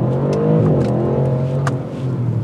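A 2021 Audi RS7 Sportback engine revs hard after a downshift under full throttle, its deep steady drone climbing continuously, close and loud without talk.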